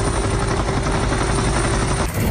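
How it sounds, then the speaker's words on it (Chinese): A rescue helicopter over mountain forest gives a loud, steady rotor and engine roar that fills the whole stretch, with a constant droning tone underneath. "直升机划过天空，"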